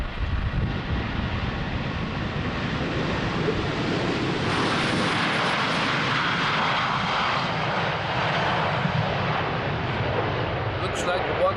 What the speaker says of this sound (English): the Transavia 737 now rolling for takeoff